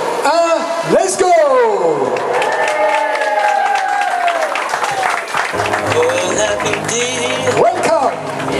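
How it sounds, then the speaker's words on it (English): Crowd applause rising with cheering and whistles, while voices shout and talk over a lively, noisy gathering. "sous vos applaudissements, on va pouvoir couper tous ensemble le ruban"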